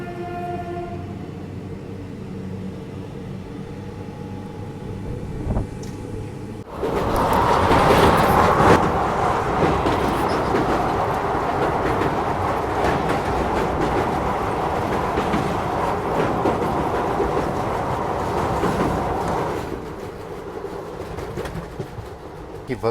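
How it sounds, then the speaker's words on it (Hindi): A Delhi–Prayagraj special passenger train runs along the tracks: quiet cabin hum at first, then a sudden loud, steady rumble and clatter of wheels on rails that carries on for over ten seconds before easing slightly near the end. "लेकिन ये स्पेशल ट्रेन वाकई मुझे बहुत अच्छी लग रही है"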